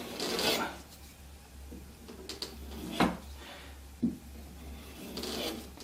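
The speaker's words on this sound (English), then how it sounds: "the final piece of the activity is just to give it a couple of swipes over the leather strop, take any burrs off of it" A bushcraft knife blade is drawn over a leather strop to remove burrs, giving a few soft, separate rasping swipes with quiet pauses between them.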